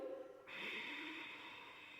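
A full, audible exhalation during a yoga core-strengthening exercise, a soft breathy rush through the nose or mouth that swells and holds steadily for over a second, close and quiet with no talking.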